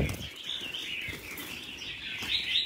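Red-whiskered bulbul song played from a recording, bright repeated chirping phrases over a noisy background with a low rumble, no talk.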